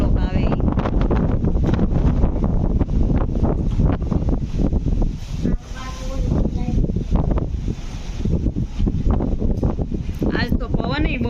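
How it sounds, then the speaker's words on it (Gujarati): Strong wind blowing outdoors, a loud continuous roar buffeting the microphone for the whole stretch, with a person talking over it. "આજ તો પવન બહુ છે"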